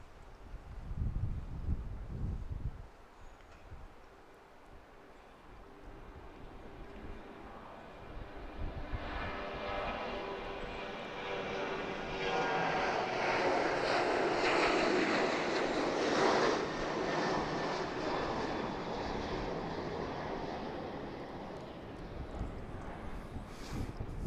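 A plane departs Dallas Love Field in Texas, its broad engine roar swelling from a low rumble into a loud, sustained wash that peaks midway and stays strong, with no talk over it.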